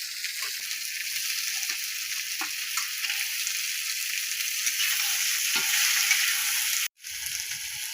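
Taro and potato pieces sizzle loudly in hot oil in a pan, a dense steady frying hiss that cuts off briefly near the end before resuming more quietly.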